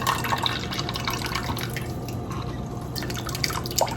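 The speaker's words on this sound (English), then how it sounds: "And I just like to use the little push top lids and just push in there to get as much of this liquid out as possible." Liquid from canned pineapple drains and drips as the contents are pressed down with a push-top lid, giving a close, continuous trickle with scattered drips.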